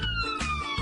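An ambulance siren sounds loud and close, a steady electronic wail with bright harmonic tones drifting slightly downward in pitch, heard alone without voices.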